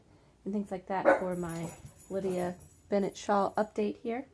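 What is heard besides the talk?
dogs barking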